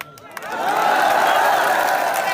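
A crowd at a political rally in India claps and cheers, the applause swelling after a brief opening and holding as a broad, steady, fairly loud wash of hands.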